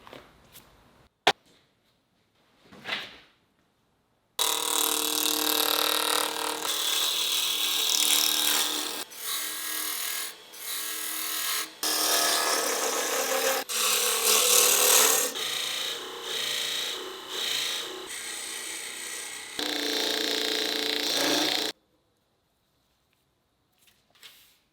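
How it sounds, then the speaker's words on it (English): African blackwood spinning on a lathe while a tool cuts it, giving a steady harsh scraping roar that runs without a break for most of the stretch, with short quiet gaps at each end. "I've got some of this African blackwood, but I need to put it on the lathe."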